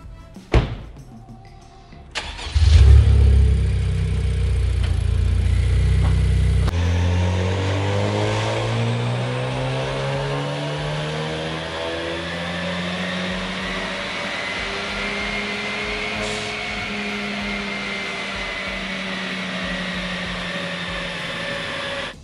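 A turbocharged 10th-generation Honda Civic Si fitted with a PRL turbo inlet revs on a dyno after a thunk and a brief idle, then climbs in a long, loud, steady pull through the gears with rising pitch.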